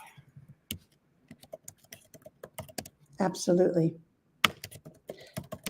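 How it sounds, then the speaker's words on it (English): Keys clatter on a computer keyboard as a message is typed, quick irregular taps close by, with a voice speaking briefly between bursts. "I'm just typing a message"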